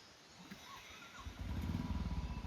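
A motorcycle rides along a rough dirt road, starting faint and distant, then its engine grows louder and closer into a throbbing, pulsing growl.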